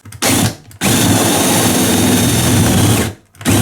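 A power drill bores through drywall to widen a hole for a toggle bolt. It makes a short burst, pauses, then whines steadily for a few seconds before stopping. The drill is loud and close, with no speech.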